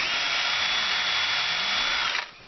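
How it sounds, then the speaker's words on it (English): A power drill with a 4mm bit boring into a plastic screw anchor, one steady high whine lasting about two seconds, loud and close, then cutting off abruptly. "we're taking these screw anchors and we're going to drill them with a 4mm drill bit"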